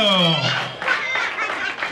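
A school audience at an awards day claps and cheers for a president, dense applause building after a brief voice at the start and carrying on steadily.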